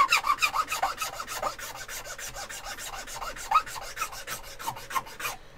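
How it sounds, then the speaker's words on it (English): A hand file rasping down polycarbonate in quick regular back-and-forth strokes, close and dry, with no talking. "So we'll just keep an eye on that line as we're filing down here."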